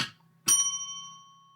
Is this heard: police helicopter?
no